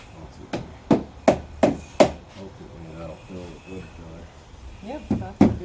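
Wooden stained-glass frame tenons are tapped into place as a handful of sharp, close knocks in a quick rhythm, then a pause, then two more taps. Talk runs underneath.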